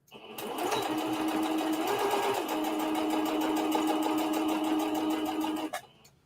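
Sewing machine running a long straight stitch through denim jeans, a fast steady mechanical whir with rapid needle ticking that starts, holds briefly at a higher pitch, settles into a continuous run, then stops abruptly near the end.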